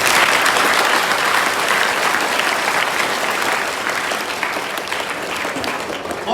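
A large audience at a motivational talk claps loudly and continuously, a dense, even roar of hands that stays strong throughout and eases only slightly toward the end.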